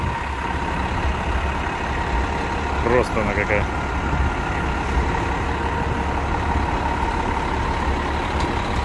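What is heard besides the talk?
New York fire truck engine idling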